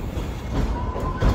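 A Tweetsie Railroad heritage train rolls along its rails at the end of the day's ride, a loud, close rumble of wheels on track with a faint thin squeal rising over it.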